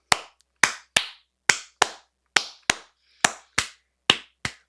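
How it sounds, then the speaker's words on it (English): Sharp, close handclaps in an irregular 5/8 pattern, about a dozen crisp claps in a grouped, uneven rhythm with short ringing decays and silence between them. "a planned clapping part where I tried to integrate the audience by clapping a 5/8 rhythm"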